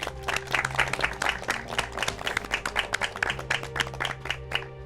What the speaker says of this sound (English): give yourselves a huge round of applause